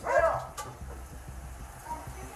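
Police dog barking from a car during a tense traffic stop, a loud close bark at the start followed by a steady rhythmic pulse of lower barks and whimpers, with someone shouting briefly.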